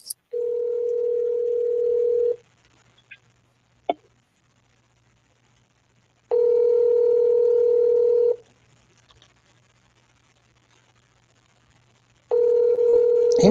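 A telephone line gives a steady, close dial tone in three long bursts separated by quiet gaps, with faint clicks and a brief dialing blip between them.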